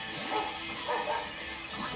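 A dog-like Pokémon cries in a Pokémon Scarlet battle, a short yipping, barking call repeated a few times at moderate loudness over game background noise.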